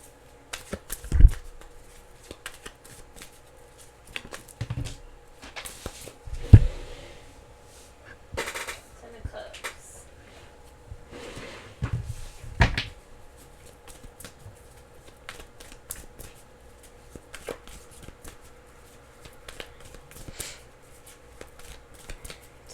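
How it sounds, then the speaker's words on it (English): Tarot cards are shuffled in several bursts of riffling and snapping, with quiet pauses and soft handling sounds between them. "I'm going to shuffle this because it's the same cards"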